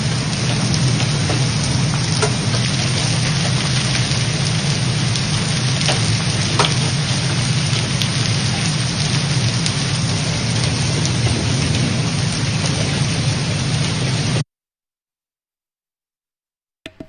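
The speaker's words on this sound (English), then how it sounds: "getting major hail in Rock Hill right now." Heavy rain and hail pound down steadily during a storm in Rock Hill, York County, some stones the size of golf balls, a dense, loud, continuous roar with low rumbling underneath, lasting about fourteen seconds before cutting off.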